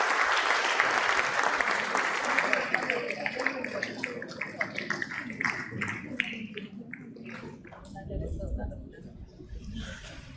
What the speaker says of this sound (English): Let's keep clapping, please.